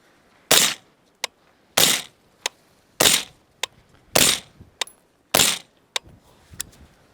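Five loud, sharp suppressed gunshots from a rifle fitted with an LPM Torch suppressor with a vented end cap, evenly spaced about a second apart, each followed by a fainter click or echo, with no talk.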